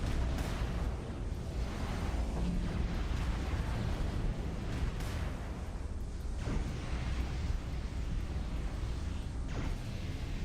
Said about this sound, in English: This must be a cannon.